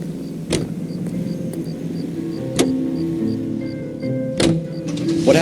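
A car cruises through 1940s Los Angeles in the video game L.A. Noire. A steady engine drone continues at moderate loudness, broken by a few sharp clicks, with no voices.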